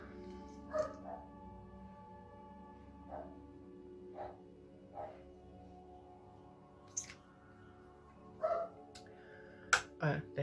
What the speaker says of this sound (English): my dogs are barking at the people that are busy working up and down